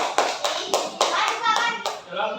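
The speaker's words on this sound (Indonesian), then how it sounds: "Tepuk tangan kelompok 1." A classroom group claps in a short, rhythmic burst of about six or seven firm, unison hand claps for a finished student group presentation, close and clear.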